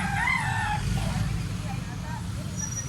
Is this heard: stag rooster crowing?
yes